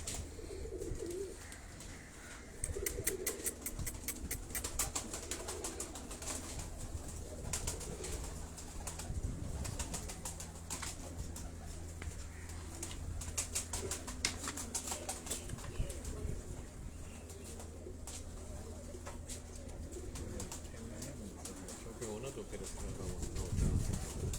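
Pigeons from a breeder's loft in Karachi coo softly and repeatedly, with occasional wing flaps, under steady background noise and someone talking nearby.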